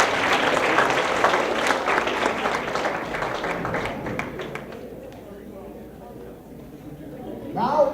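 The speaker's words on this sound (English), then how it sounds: "let's give a big round of applause to Caitlin and Nicole." Audience round of applause at a hypnosis show, clapping that fades out over several seconds, then a voice speaks near the end.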